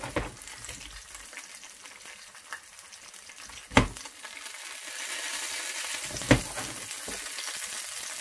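Tinned burgers fry in oil in a pan with a steady close sizzle, broken by two sharp clinks of a utensil against the pan.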